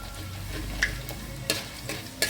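Chana dal fries in hot oil with a continuous bubbling hiss, broken by several sharp clinks of a spoon stirring the pan at irregular intervals.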